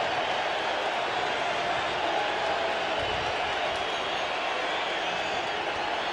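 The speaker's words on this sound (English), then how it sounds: "listen to this crowd as Bonds will walk up" Crowd noise fills a San Francisco baseball stadium in 1998 as Barry Bonds walks up to bat, a steady loud roar of cheering with a commentator talking over it throughout.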